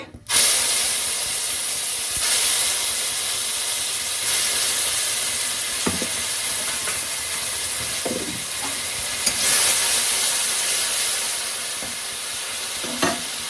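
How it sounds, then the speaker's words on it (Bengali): Cumin seeds sizzle loudly in hot oil as a tempering, a constant hissing crackle with a few brief spoon clinks along the way; nobody talks. "আচ্ছা জিরে ফোড়ন দিলাম এবারে"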